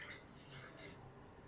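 Water poured into a cooking pot, a short bright splashing rush at moderate level that cuts off abruptly partway through, leaving quiet room tone.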